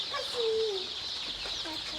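Native village chickens cluck softly nearby, a few short calls scattered over steady outdoor background noise.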